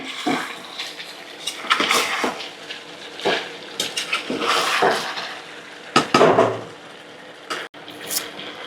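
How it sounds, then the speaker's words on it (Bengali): Chicken curry being stirred in a pot with a spoon scraping and clinking against the metal, bursts of sizzling, then water poured in, all close and fairly loud with no talking. "এখন আমি একটু নাড়াচাড়া দিয়ে জলটা দিয়ে দেব।"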